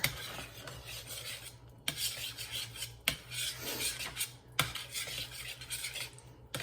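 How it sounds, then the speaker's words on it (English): A spoon scraping and rubbing through a simmering Mexi-chicken skillet, a steady rasping stir broken by several sharp clacks against the pan, close and fairly quiet, no voices. "So this is simmering. I'm just going to give it another little stir."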